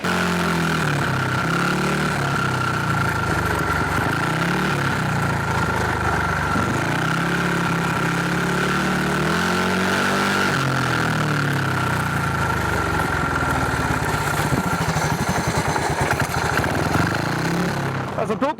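A motorcycle engine runs loudly and steadily nearby, its pitch swelling and dipping as the revs change, with someone talking over it.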